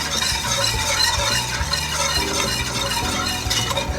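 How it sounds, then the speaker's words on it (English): Butter and flour are whisked in a pan over low heat, making a steady scraping, stirring hiss that continues evenly for a few seconds against a low background hum. "keep on whisking it."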